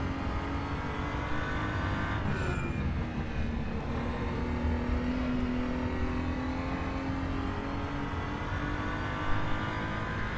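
BMW M235i Racing car engine in the RaceRoom racing game, a steady loud engine drone with a shift in pitch around two seconds, continuous throughout with no talking.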